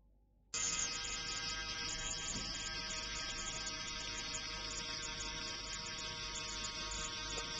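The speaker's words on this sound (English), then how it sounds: "It is driven by a small motor through a worm gearbox." A small electric motor turns a worm gearbox driving a pole-climbing robot, switching on abruptly after a brief quiet moment into a steady high-pitched whine and buzz that holds level and close for the rest of the clip.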